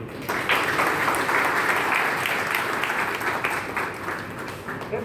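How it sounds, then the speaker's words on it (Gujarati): An audience at a police property-return event in Anjar, Kutch claps together in a steady, dense round of applause that lasts several seconds and tapers slightly at the end. "સમગ્ર પોલીસને એકવાર જોરદાર તાળીઓ"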